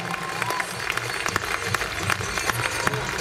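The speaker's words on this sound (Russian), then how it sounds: "И громко аплодируем финалистам первенства в латинской программе." Spectators at a Belarusian youth ballroom dance championship applaud the children's Latin finalists. The clapping is moderately faint, steady and continuous, with a few sharper claps standing out.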